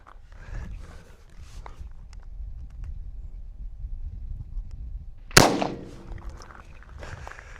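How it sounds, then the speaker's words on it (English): A single sharp shot from a .22 Magnum bolt-action rifle fired at a Cybertruck cracks out loud and close after several quiet seconds of outdoor ambience and shuffling, followed by a brief ringing tail. "This time with the 22 Magnum bolt gun."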